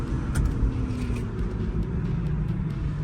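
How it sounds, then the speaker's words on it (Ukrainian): A car cruises at 100 km/h with its sunroof open, giving a constant loud cabin rumble of road and wind noise with no pauses. "Ми їдемо 100 км за годину. У мене люк відкритий"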